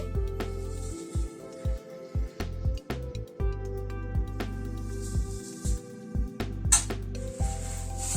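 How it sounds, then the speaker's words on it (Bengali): A winter vegetable curry with grated coconut and bori being stirred in a pan, a series of repeated close scraping and squishing strokes in an irregular rhythm over a faint background hum. "আবার একটু নাড়াচাড়া করে নিচ্ছি নারকেল কোড়াটা আর বড়িটা দিয়ে"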